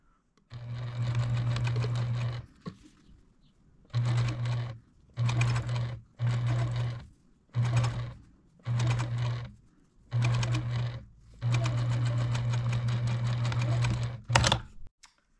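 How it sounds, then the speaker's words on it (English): Sewing machine stitching a quarter-inch seam on a fruit-themed potholder, running in eight steady bursts of even motor whir separated by short pauses, close and clear with no talk. "I'm going to take this over the machine and do a quarter inch stitch there"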